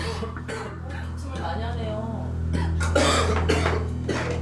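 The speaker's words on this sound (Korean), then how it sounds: "긴 출장이 피곤했던 것인지 가끔 기침이 나온다" A man coughs several times in short bursts over a steady low hum, fairly close and clear.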